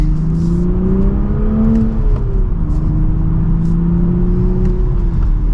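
A 2023 Toyota GR Supra with a manual gearbox accelerates hard from second gear. The engine and exhaust drone rises steadily and stays loud and close the whole time, with no talk over it.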